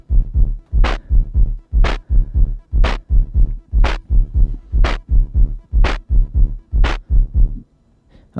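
Moog DFAM percussion synthesizer sequenced by a Moog Grandmother, pounding out a steady loud pattern of deep thumping drum hits with a sharp clicky transient on every other beat, repeating for about eight beats before stopping.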